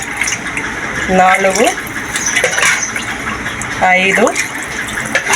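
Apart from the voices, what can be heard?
pouring glasses of water into pot for biryani rice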